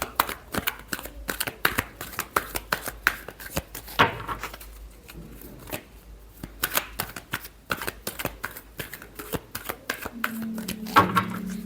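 Tarot cards are shuffled in quick repeated riffles, a close rapid flutter of card snaps with short pauses between bursts and a faint voice near the end.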